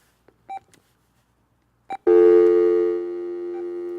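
A telephone line being picked up for a call gives a few short clicks and beeps, then a steady, loud line tone that sounds close and alone.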